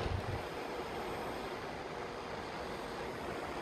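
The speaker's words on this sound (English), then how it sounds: "very windy here today" Steady, broadband wind rushing across the microphone outdoors, a constant roar with no breaks and no voices.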